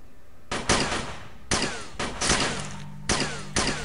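Bursts of rapid gunfire in the video game UFO: Afterlight crackle in long and short volleys, loud and close, separated by brief pauses, with a low engine-like hum underneath.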